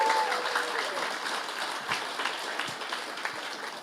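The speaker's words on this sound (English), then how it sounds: "Round of applause to everyone." An audience at an emergency care conference applauds the winners of the day with a steady, moderately distant wash of clapping that lasts the whole stretch, with voices faintly beneath it.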